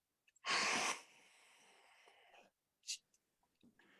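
A person imitates a sneeze: a loud burst of breath that trails into a long, fading exhale, followed by a few faint breathy sounds.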